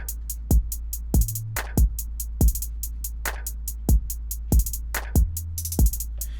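Deep 808 bass notes glide without legato in a trap beat made with Maschine stock plugins, hitting in a steady rhythm, each dropping sharply in pitch, over a constant low hum with crisp hi-hat ticks on top.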